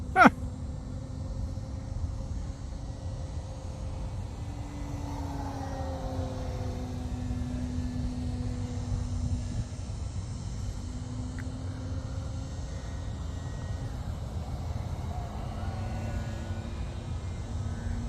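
An E-flite Carbon Z Cub RC airplane flies at half throttle, a steady electric motor whine that rises and falls in pitch as it passes, heard from a distance outdoors with no talk.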